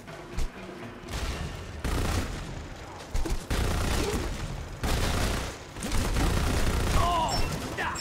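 Gunfire in the shooter game Lost Planet 2 comes in several loud, separate bursts of rapid shots, broken by brief quieter gaps, with no clear talking.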